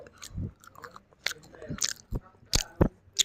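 Toasted bread with condensed milk being bitten and chewed close up, with a series of crisp, irregular crunches separated by brief pauses.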